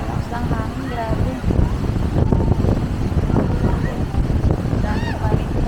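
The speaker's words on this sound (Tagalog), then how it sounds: "Lakas ng hangin, grabe." Strong wind on Boracay buffets the microphone in a constant roar, with people talking and calling out over the gusts.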